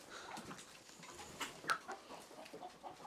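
Chickens on a small farm cluck softly and intermittently at a distance, with a few sharper calls rising briefly above a faint background hiss. No one speaks.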